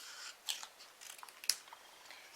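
Scissors cut a piece of paper card in half lengthwise during handmade card crafting. Two or three crisp, quiet snips stand out over near silence, with faint rustling of the card between them.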